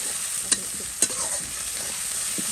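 Hilsa fish frying in a pan with onion, cumin paste and green chili gives a steady, close hiss of sizzling oil, broken by two sharp clicks of a utensil early on.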